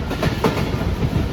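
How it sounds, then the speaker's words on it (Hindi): Pak Business Express passenger train running on rails between Karachi and Lahore, a loud steady rumble with rhythmic clickety-clack of wheels over rail joints, heard from on board with no voices. "माशीकोट रेलवे स्टेशन से गुजर चुकी है हमारी ट्रेन"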